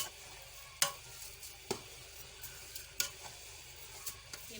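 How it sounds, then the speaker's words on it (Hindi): Carrot halwa is stirred and roasted in a pan with a quiet, low sizzle, while a spoon scrapes and knocks against the pan in sharp strokes every second or so. "अब मैं इसको भूनूंगी। अब मुझे भुनाई करनी है ये हलवे की।"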